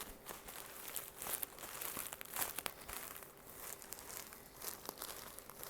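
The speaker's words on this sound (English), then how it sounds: "I need paper towels." Plastic packaging on a Kirkland Signature paper towel roll crinkles and crunches close up, in steady irregular handling bursts that rise and fall with some sharper crackles, with no talking.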